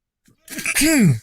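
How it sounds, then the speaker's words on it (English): A single close, sudden sneeze with a short breathy intake, then a loud sharp burst that trails off. "I'm going to sneeze."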